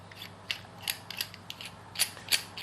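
Lightsaber hilt being closed up, a series of faint small metallic clicks and ratcheting snaps, spaced irregularly over a couple of seconds against a quiet background with no talking.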